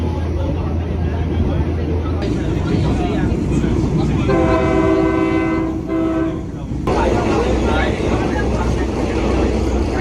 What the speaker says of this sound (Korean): 진짜 리얼 기차